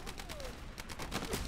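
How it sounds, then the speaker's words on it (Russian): Rifle shots in the WWII shooter Medal of Honor Airborne, a few sharp cracks in quick succession over low, dense game background noise. "Выстрел."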